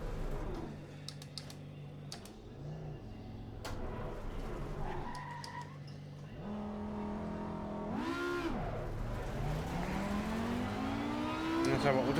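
A race car engine lapping an oval in Assetto Corsa Competizione, revving and shifting through rising and falling pitch sweeps, with a voice talking over it and a few keyboard-like clicks.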